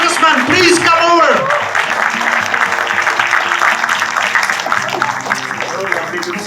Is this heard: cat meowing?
no